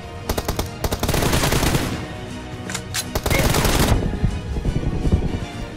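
Rapid automatic gunfire from a 1v1 team deathmatch mobile shooter game, loud continuous bursts of shots with brief gaps, with faint talk underneath.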